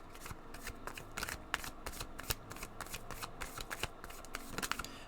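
Tarot cards are shuffled continuously, a dense run of quick papery riffles and flicks, close and steady with no talking.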